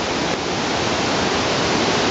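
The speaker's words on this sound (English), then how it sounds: "there are waterfalls everywhere around here" Wahkeena Falls, a waterfall near Multnomah Falls, pours steadily in the rain, a dense, unbroken roar of falling water close by with no voices.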